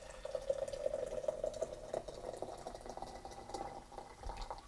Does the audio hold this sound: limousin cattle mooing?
no